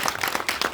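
An audience at a film screening and director's talk claps for the director, a brief burst of dense, even applause with no speech over it.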